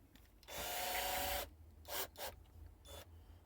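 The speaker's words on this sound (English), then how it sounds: "I'm going to get my drill." A cordless-style electric drill spins a twisted length of wire held in a vise for a hanging decoration, a steady whirring burst of about a second, followed by a few shorter rasping bursts, close and fairly loud.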